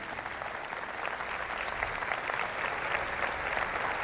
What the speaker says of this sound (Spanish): Un aplauso para nuestro señor presidente.